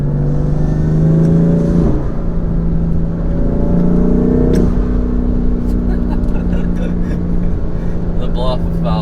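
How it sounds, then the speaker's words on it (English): A turbocharged BMW M3 with new intakes pulls from inside the cabin, its engine drone rising as the turbo spools with a whistling whir, then easing with a brief hiss, under a steady roar of road noise. "The blow-off valve sounds kind of funny too."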